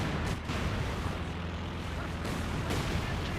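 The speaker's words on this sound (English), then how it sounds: "Oh dear, calling in another barrage." Artillery barrage in Company of Heroes 2, German artillery shelling a position, heard as dense continuous rumbling blasts and overlapping impacts throughout, with a commentator's voice faintly under the noise.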